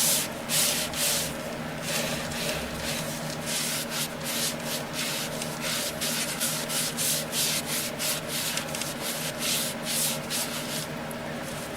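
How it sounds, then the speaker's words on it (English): Sandpaper rubbing steadily against a turned wood pot-belly vase spinning on a lathe, a continuous close scratchy hiss with rhythmic pulsing strokes and the motor's low hum underneath. "silky, smooth gliding of the sandpaper as I'm going through here"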